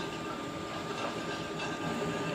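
A sugarcane rail lorry rolls along a narrow-gauge track on an inspection run toward Jombang, giving a steady, continuous rumble of wheels and running gear at close range with no talk over it.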